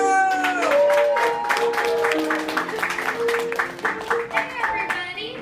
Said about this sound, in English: Everyone, please clap your hands for the amazing Lucia Fasano!